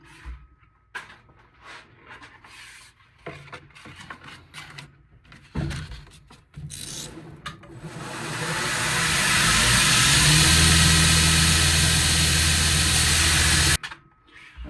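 A belt grinder sharpens a belt hatchet head at 120 grit: scattered handling knocks and scrapes, then a loud, steady abrasive roar of steel against the running belt swells for several seconds before stopping abruptly.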